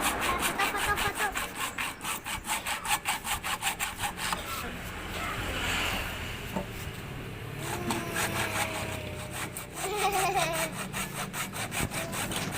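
Hand sawing into the plastic cover behind a car battery terminal, a steady rapid back-and-forth rasp of close strokes that pauses briefly midway, with faint background voices.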